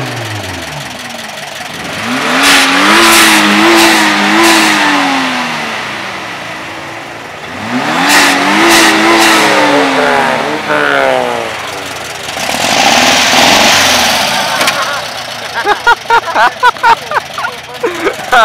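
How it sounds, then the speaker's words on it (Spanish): A car engine at an outdoor car meet revs hard in repeated rising and falling bursts, loud and close, with short crackling pops near the end and voices heard between the revs. "Ese es un motor de verdad."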